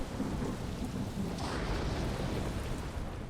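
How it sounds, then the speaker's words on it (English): Steady rain pours with a low rolling thunder rumble in a Final Fantasy XVI storm scene, a constant dense wash with no voices. "A little bit of rain."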